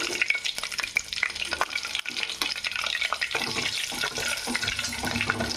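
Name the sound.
onions frying in a pan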